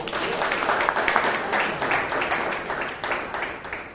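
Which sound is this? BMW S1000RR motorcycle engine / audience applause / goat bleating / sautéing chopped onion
audience applause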